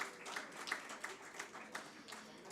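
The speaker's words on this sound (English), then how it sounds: "A huge clapping." Audience clapping in a hospital hall for a CME event, a fairly faint, modest round of claps with some regular individual hand claps standing out.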